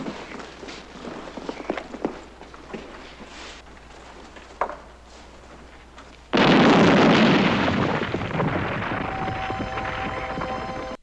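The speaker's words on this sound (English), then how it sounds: "pretty cool little explosion" After quiet shuffling and scattered footsteps outside a cave, a hand grenade explodes with a sudden loud blast whose heavy rumble rolls on and slowly fades.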